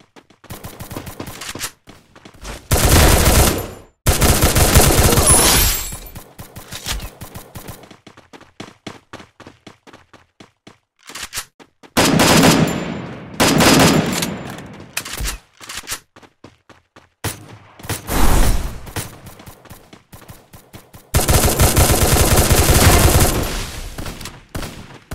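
Bursts of in-game gunfire from the battle-royale shooter Free Fire: several loud, sustained automatic volleys separated by short gaps, with quieter single shots and game effects between them and no talking.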